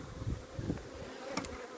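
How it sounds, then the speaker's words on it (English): Honey bees buzz softly nearby around a nucleus hive, a steady low drone with a few sharper passes, faint and without talk. "I'll leave these bees be."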